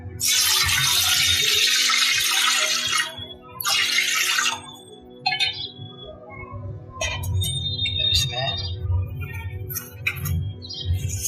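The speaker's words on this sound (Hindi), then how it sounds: "इसमें जो हल्दी के जल बना रखे हैं तो जल डालेंगे" Turmeric water poured into a vessel during a Hindu ancestral tarpan ritual, a steady splashing pour for about three seconds, a second short pour, then faint clinks and drips as the vessel settles.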